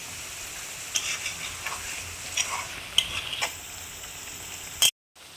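Coconut milk poured into prawns frying in a pan gives a steady, soft sizzle with a few light scraping ticks, ending in a sudden brief silence.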